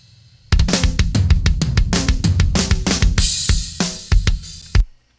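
A metal drum fill across the toms, processed with Tom Crush: a fast run of punchy, heavily compressed hits rolling down the kit, ending in a few crashing cymbal accents, loud and alone.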